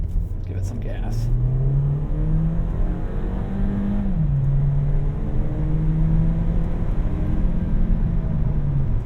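A 2023 Volkswagen Taos SEL 4Motion accelerating, its engine note rising steadily in pitch with a brief dip and shift midway, heard from inside the cabin as a continuous moderate drone.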